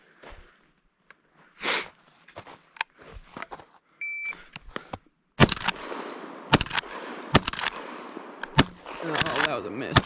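Sharp gunshots fired at target stands, a handful of loud separate cracks spaced irregularly, with a voice talking between shots.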